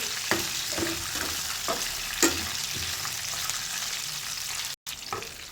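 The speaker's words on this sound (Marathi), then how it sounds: "एक मिनिटासाठी छान परतून घ्यायचं आहे।" Lemon rice tempering without onion is sautéed and stirred in a pan: a steady close sizzle with repeated spatula scrapes and taps at an uneven rhythm, and one brief dropout.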